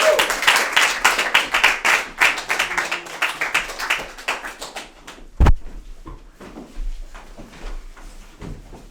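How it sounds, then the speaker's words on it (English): A crowd claps and applauds energetically for several seconds for a storyteller at a live storytelling show, then the clapping thins out, followed by a sharp thump and quieter shuffling. "Andrew Linderman, give him a big round of applause."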